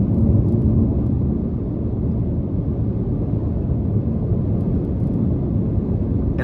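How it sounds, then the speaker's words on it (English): Inside a 2022 Chevrolet Malibu RS 1.5T on the move, a steady low rumble of tire and road noise fills the cabin, continuous and even throughout with no talking. "road noise, in this one in particular, it's decent"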